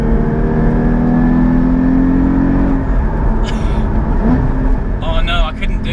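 A Porsche GT3 or GT4 engine in sport mode revving and blipping for rev-matched downshifts, a steady loud mid-pitched drone with rising and falling pitch, heard close from inside the car with talk over it.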